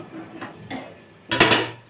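A metal kadai holding arum-root curry is handled and set straight on the stove, with a couple of light knocks followed by one louder metallic clank near the end.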